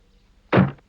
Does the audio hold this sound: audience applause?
no